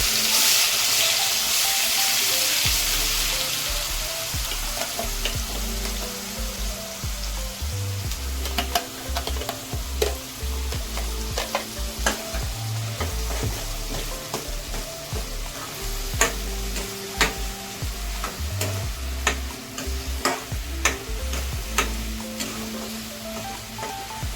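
Ground green masala paste frying in a pan for a drumstick vegetable dish, a loud sizzle that starts strong and settles, with repeated scraping stirs of a spoon throughout.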